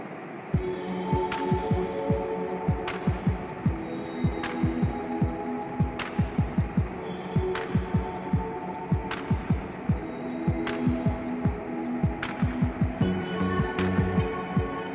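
Domestic sewing machine stitching a midi dress, running steadily with a fast, even needle thump and a continuous motor hum throughout, close and fairly loud, with a few sharp clicks at regular intervals.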